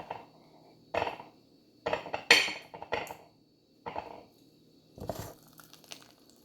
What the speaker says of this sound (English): I'm just going to scoop it out and display it